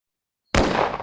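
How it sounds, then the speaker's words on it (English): Sudden loud burst of gunfire erupts out of silence inside a saloon, a sharp crack followed by a dense, sustained roar of shots and reverberation with no one talking. "And gunfire opens inside this saloon."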